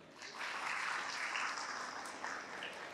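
Dense, sustained applause from a seated audience at a Tamil devotional talk about Murugan, many hands clapping together at an even level for the whole stretch.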